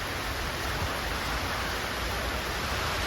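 Steady broadband rain hiss surrounds a car in a downpour, a dense, even wash of falling water with no breaks and no voices.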